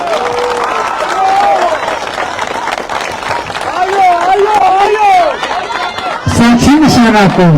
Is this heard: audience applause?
yes